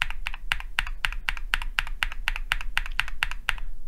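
Keys with stock JWick Yellow switches are typed in a steady, even rhythm of about sixteen crisp, close clacks with no talking.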